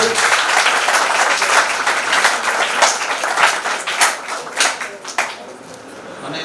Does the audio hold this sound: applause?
yes